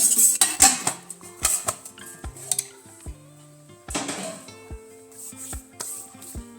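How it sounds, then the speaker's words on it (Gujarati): A metal kadai set down on a gas stove and handled for frying oil: sharp clanks and ringing metallic knocks at irregular intervals, close and fairly loud, with scraping in between and no talking. "ગેસ ઓન કરીશું, કઢાઈ રાખીશું અને તેમાં જરૂર પ્રમાણે જામુન તળે તેટલું તેલ ઉમેરી દેવાનું છે."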